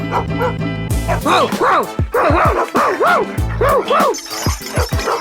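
Several dogs bark and yip in quick overlapping bursts close by during a street play for a Palakkad municipal election campaign, with whimpering cries mixed in and voices underneath.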